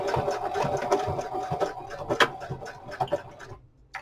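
A sewing machine runs a zigzag stitch back and forth across elastic on an old book cover, a rapid steady mechanical whir with ticking needle strokes that stops shortly before the end.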